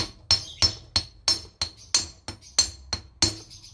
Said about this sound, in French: Donc avec un gros marteau cette fois-ci.